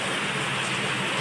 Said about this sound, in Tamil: செம மழை பெய்யுது பாருங்கள், எவ்வளோ மழை ஊற்றுது.